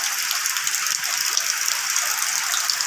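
Heavy rain water pouring and gushing steadily, a dense continuous hiss filling the scene with no pauses, close and loud, after a long-awaited rainfall over a garden with plants and buckets.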